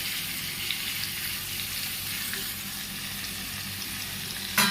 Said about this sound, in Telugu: టొమాటోస్ వేసుకొని వేగనివ్వాలి.